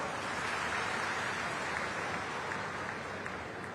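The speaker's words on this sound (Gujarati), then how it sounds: "તાળીઓ તો પાડો." A crowd applauds at a political speech, giving a continuous, even wash of clapping that holds steady throughout and sounds somewhat distant.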